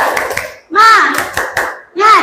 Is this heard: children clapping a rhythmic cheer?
yes